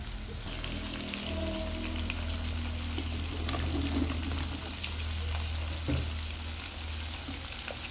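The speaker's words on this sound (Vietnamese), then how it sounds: "giờ mình bỏ đu đủ vô nha các bạn." Papaya pieces dropped into a simmering pot of pork ribs, a steady bubbling, sizzling cook sound with scattered splashes and a brief clunk near the end, fairly close and without talk.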